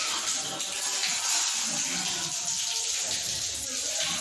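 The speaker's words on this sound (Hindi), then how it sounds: "हमारा टैप में से पानी निकलना स्टार्ट हो गया है" Water running steadily from the tap of a newly installed remote-control electric geyser, a continuous hissing gush at moderate level with a faint low murmur underneath.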